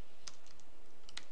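Computer keyboard keys tapped while typing JavaScript code, a few sparse, light clicks in quick short bursts over a quiet room hiss.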